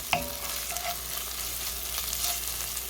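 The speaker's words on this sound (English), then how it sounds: "The onion is getting nice and caramelized." Onions caramelizing in a pan for a meat sauce, a steady close sizzle with a spoon scraping and stirring through it, one sharp clink near the start.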